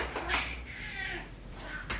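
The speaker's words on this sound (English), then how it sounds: "Here comes my cat, Nemo." A pet cat meows twice nearby, short plaintive calls over a low background hum in a quiet indoor room.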